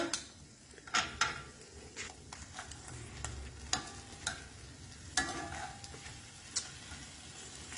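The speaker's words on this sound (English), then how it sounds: "And now you can hear it starting to sizzle." Steady sizzling and crackling of kielbasa sausage bites frying in a pan, with occasional sharp pops and utensil clicks, close up and fairly quiet.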